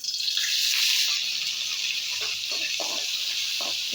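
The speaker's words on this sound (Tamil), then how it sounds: "வெங்காயம் நல்லா பொன்னிறமாக வர வரைக்கும் நல்லா வதக்கிக்கணும்" Onions fry in hot oil with fennel seeds, giving a steady bright sizzle and hiss throughout with faint soft bubbling underneath.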